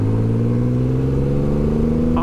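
Triumph Rocket 3 motorcycle engine pulling steadily under power from low revs, a loud close deep drone with a firm, even tone throughout.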